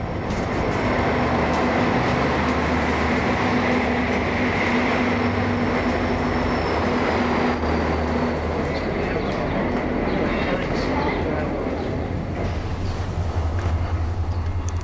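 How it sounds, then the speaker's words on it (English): The Indian Pacific passenger train pulling into Adelaide railway station, a steady loud rumble of rolling wagons with a high brake squeal and dull track noise throughout, settling toward the end. "The train arrives at the railway station at 3 o'clock in the afternoon."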